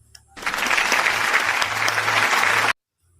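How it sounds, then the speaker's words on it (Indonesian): Schoolchildren clapping in an elementary classroom, a sudden dense burst of applause lasting a little over two seconds that cuts off abruptly into silence. "mari kita kasih aplaus"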